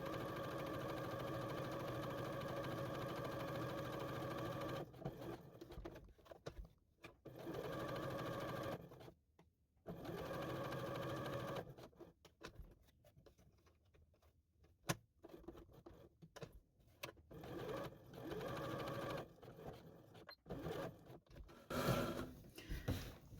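A Janome JW8100 sewing machine stitching turquoise fabric, its motor whirring fast in long runs, then pausing and restarting in shorter, quieter bursts.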